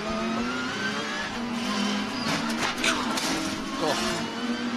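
Audi GT race car from the ADAC GT Masters at Lausitzring, heard onboard during a first-lap race: a steady, loud engine drone with rising and falling revs through gear changes, with commentators talking over it.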